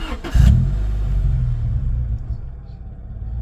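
Honda Civic EH3 hatchback engine cranks briefly, then catches and settles into a loud, steady low rumble at idle, close by.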